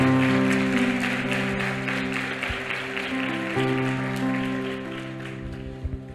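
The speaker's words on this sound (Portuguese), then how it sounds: "dá a maior salva de palmas que você pode para Jesus" A church congregation applauds for Jesus during a worship service, a steady wash of clapping from many hands that slowly fades, heard over sustained instrumental tones.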